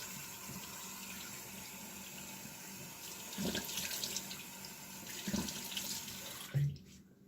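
Tepid tap water running steadily from a faucet into a sink while rinsing a skincare product off the face during a med-spa treatment, a soft continuous wash with a few louder splashes before it cuts off.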